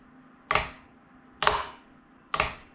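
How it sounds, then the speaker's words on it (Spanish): Three evenly spaced drum flams, each a soft grace note striking just ahead of the main stroke, sharp and close with short decays and no talking. "Entonces un flam suena así."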